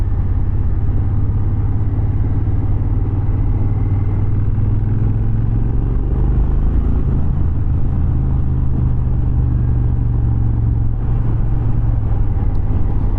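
A 2009 Triumph Thunderbird motorcycle with over 30,000 miles pulls hard, its engine giving a loud, steady, deep rumble with shifting pitch and heavy wind noise throughout, without speech.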